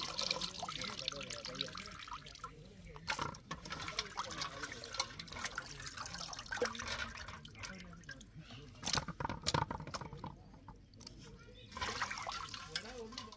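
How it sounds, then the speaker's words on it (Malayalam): Water running and splashing as cut river fish is rinsed inside for a coconut curry, at an outdoor kitchen setting, with trickling and pouring sounds under intermittent background noise and talk. "മീൻ മുഴുവൻ വെട്ടി എല്ലാം തേച്ച് കഴുകി കഴിഞ്ഞ് ഇനി നമ്മൾ കറി വെക്കാൻ അകത്തോട്ടൊന്ന് കഴുകി എടുക്കുക"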